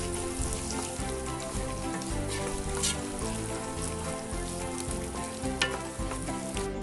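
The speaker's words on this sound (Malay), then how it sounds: "Kemudian masukkan sosis yang telah kita potong tadi." Cut sausage pieces frying in a pan for spaghetti bolognese, a dense, continuous crackling sizzle up close with occasional stirring scrapes and pops over an even bed of hiss.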